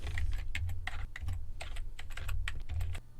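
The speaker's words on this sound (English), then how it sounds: "Let's type in a couple of sub-bullets here." Computer keyboard typing while entering bullet points in PowerPoint, a fast irregular run of close, crisp key clicks with brief pauses, alone without talk.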